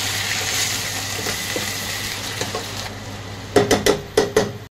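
Ginger garlic paste is stirred into a pan while making potato dum, with a soft sizzle underneath, then a quick run of sharp scraping clanks from the spoon against the pan near the end.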